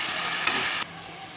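A spiced paste for a pomfret fish curry is poured into a hot pan and stirred, giving a loud close sizzle that flares briefly and then settles to a quieter hiss.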